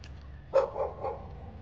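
A dog gives a short bark close by, followed by a couple of softer yips over a quiet low background hum.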